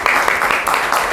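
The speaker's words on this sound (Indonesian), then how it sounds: "Tepuk tangan." Schoolchildren clap together in a classroom after a group finishes presenting in a mathematics lesson, a short and steady burst of applause.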